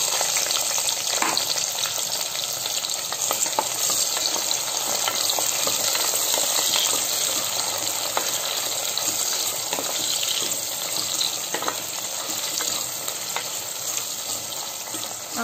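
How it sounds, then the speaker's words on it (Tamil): Chopped onions hit hot oil in a pressure cooker for mushroom biryani with whole spices, sizzling and frying in a steady, loud, continuous hiss that stays close and even throughout, with no voices. "இப்போ நம்ம கட் பண்ணி வச்சிருக்கிற ஆனியனை போட்டுக்கலாம்."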